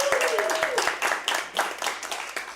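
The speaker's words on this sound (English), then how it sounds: "please welcome the podcast people with your applause" A theater audience in Atlanta claps to welcome podcast hosts, with scattered individual claps and a brief tonal cheer, fairly close, while a voice speaks over part of it.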